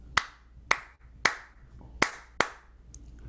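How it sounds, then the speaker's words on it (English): Five sharp hand claps in a syncopated Afro-Cuban clave pattern, close and crisp, with a lighter tap at the end. "So the clave is a pattern that sounds like this."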